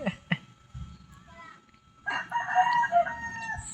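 Rooster crowing with chickens clucking around it, the crow loud and close from about two seconds in, with quieter clucks and farmyard noise before it.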